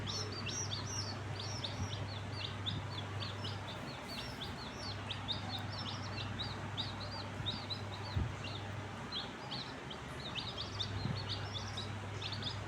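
Tiny newly brought-home baby chicks peep in a steady stream of high, rapid chirps, close by, with a low background hum and no talking.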